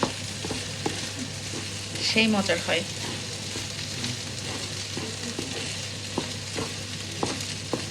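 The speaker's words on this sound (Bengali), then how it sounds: "মাছের ডিমটাকে একদম ঝুরা ঝুরা ভাজা" Fish roe crumbled and frying in oil with plenty of spices, giving a steady sizzle with occasional stirring clicks, with someone talking over it and a brief higher voice midway.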